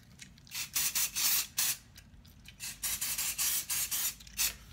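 Close spray bottle misting a wig on a display head, a rapid series of short hissing bursts separated by brief pauses, crisp and near with no talking.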